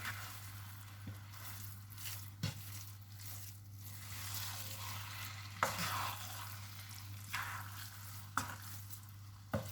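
Sticky rice cooked in coconut milk with sugar is stirred in a pot, with faint, irregular scraping and sticky squelching strokes over a low steady hum and no talk.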